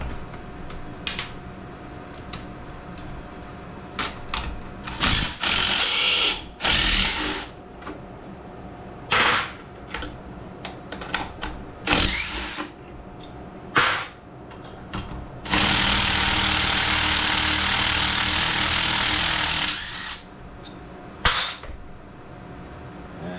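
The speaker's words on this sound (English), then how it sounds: "It looks like I've got to take these bolts out of there." Bolts come out of a lawn mower's fuel tank: close, intermittent bursts of a power driver whirring and ratcheting, with metallic clicks and clanks between, and one longer sustained run near the end.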